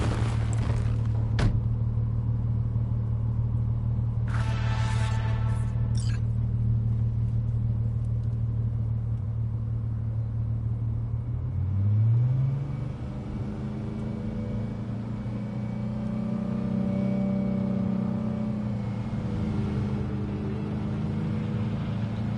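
A car drives in Cyberpunk 2077, its engine a steady low hum and rumble that shifts pitch partway through as it changes speed, with brief mechanical clatter early on.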